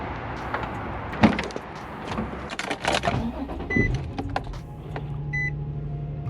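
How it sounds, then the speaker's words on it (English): An Infiniti G35 warms up, heard close as thumps and interior rustling over a low engine idle that settles into a steady hum in the second half, with a few faint electronic beeps and no talk. "right now we're just warming up the car"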